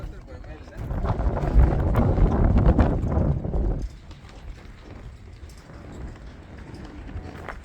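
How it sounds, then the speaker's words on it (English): Strong wind buffets the microphone outdoors during a van road trip in the Four Corners region, a loud, rough, low roar for several seconds that then drops to a softer, gusty rustle. "It is very windy."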